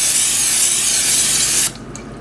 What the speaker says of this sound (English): Okay, so just spray your air fryer basket.